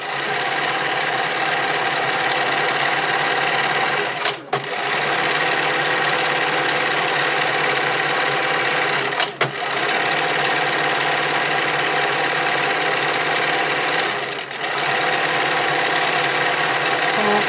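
A sewing machine stitches a seam in stretchy swimwear fabric, running in a steady, continuous close-up whir that breaks off in three brief pauses.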